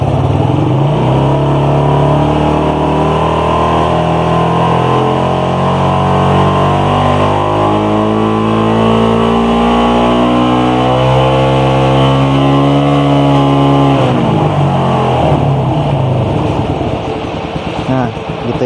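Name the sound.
Suzuki Satria FU150 motorcycle engine revving in power mode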